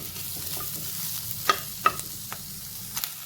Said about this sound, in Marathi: कांदा आपल्याला रंग बदलेपर्यंत व्यवस्थित मऊ शिजेपर्यंत परतून घ्यायचा आहे